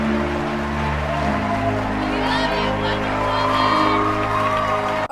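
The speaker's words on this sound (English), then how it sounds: "Wonder Woman returns to her office victorious, and everyone claps" Office staff clap and cheer as a heroine returns victorious, a dense, steady crowd of applause with scattered whoops running loud throughout.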